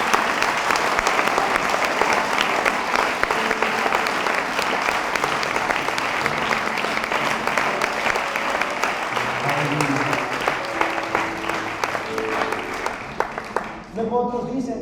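A church congregation applauds loudly for a long, sustained stretch, a dense wash of clapping that keeps a steady level, with music tones rising underneath toward the end before the applause thins out.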